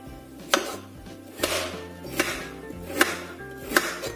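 A knife chops peeled potatoes into thin slices on a cutting board, landing about five crisp, evenly spaced strokes close up with a faint background hum and no talking.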